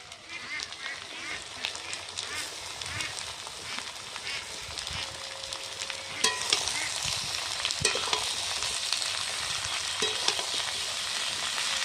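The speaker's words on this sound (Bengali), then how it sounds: "এবার আমি বাঁধাকপি দিয়ে দিচ্ছি" Cabbage frying in a pan, a steady sizzle with stirring scrapes and clinks, growing louder partway through.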